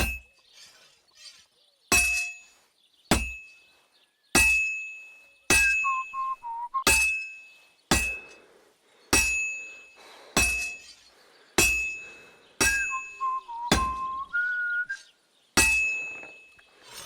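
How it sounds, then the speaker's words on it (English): Metal hammered on an anvil at a blacksmith's forge in Kingdom Come Deliverance 2, ringing clangs struck one at a time at slow, steady intervals, each bright strike decaying before the next, with a few quick double hits, close and clear with no talk. "Back to the anvil."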